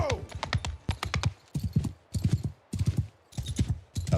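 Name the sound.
horse hooves clip-clopping in video game Old Realms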